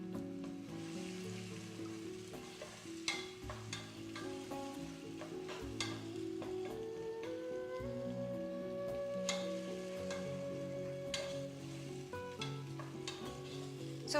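Onions frying in a pan, about one onion's worth, with a steady close-up sizzle running throughout, punctuated by occasional clinks of a utensil against the pan and soft background music or tones; no talking.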